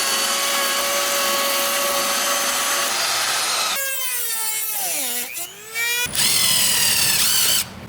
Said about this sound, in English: I had to pre-drill the holes.